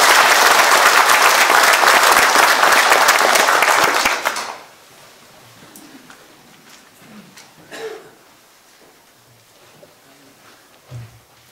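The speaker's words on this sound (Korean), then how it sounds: "다시 한번 우리 박수 쳐주십시오" Audience at a Korean political lecture clapping loudly and densely for about four seconds, then fading out into a quiet room with scattered small noises.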